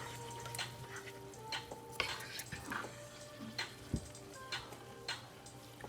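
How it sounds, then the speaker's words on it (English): Rice being stirred on high heat into margarine and sautéed onions in a pan, faint scraping and clinking taps of a utensil at irregular intervals over a low steady sizzle, with no talking. "On high heat, stir in the rice."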